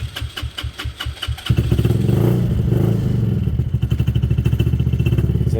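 A Benelli motorcycle engine, freshly fueled, chugs in loud, uneven pulses that then catch into a steady, close running idle with a mechanical clatter.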